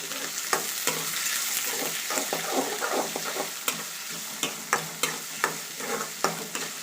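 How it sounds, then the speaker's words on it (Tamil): Onions and curry leaves sauté in hot oil for a crab pepper fry, a steady sizzle broken by repeated sharp scrapes and clacks of a spoon stirring against the pan, close and alone. "கருவேப்பிலையும் வெங்காயத்தையும் இதில் ஆட் பண்ணிக்கோங்க நல்லா வெங்காயத்தை வதக்கிக்கலாம்"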